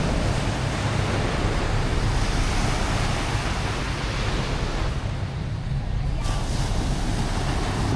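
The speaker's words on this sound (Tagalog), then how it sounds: "Dito na tayo sa dagat." Steady roar of ocean surf washing in at a beach in Liwliwa, Zambales, a continuous broad rush with some wind noise on the microphone.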